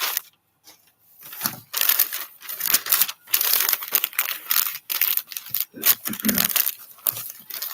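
Wrapping paper crinkles and crumples in loud, close bursts while a present is wrapped, with short quiet gaps between handlings.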